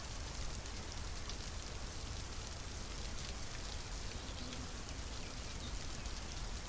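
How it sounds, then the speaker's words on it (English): Steady rain in a flight simulator patters continuously on a surface, an even hiss with no other sounds standing out. "It's raining and there are birds waking up."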